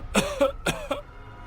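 A series of close, harsh coughs, about four in quick succession, each a short raspy burst.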